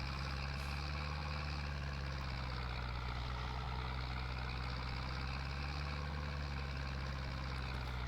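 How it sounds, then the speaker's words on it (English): A small tractor in Farming Simulator 22 idles with a steady low engine rumble, constant and alone throughout. "I do like this little tractor"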